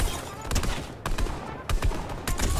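Gunfire in a video game, sharp bursts of shots in quick clusters separated by brief gaps, fairly loud, with a voice talking over it.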